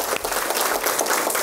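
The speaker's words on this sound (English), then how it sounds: "I'd also like to have one round of applause for all our presenters today" Audience applause for presenters at a chamber of commerce economic development meeting, a steady dense patter of many hands clapping throughout the brief moment, with no talk over it.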